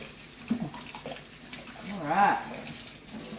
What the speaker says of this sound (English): Or turn the water on and have to rinse it a little bit before.